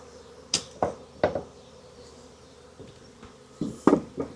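Wild bees from a swarm around a hive box in a barn zip past in brief, sharp buzzing bursts, several close passes spaced over a faint background hum.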